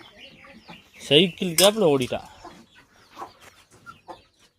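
Guinea fowl being chased on a farm, giving loud, harsh rising-and-falling cackles in a dense burst near the middle, with people talking and calling out before and after.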